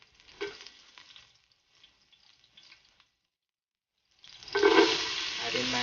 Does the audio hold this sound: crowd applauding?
no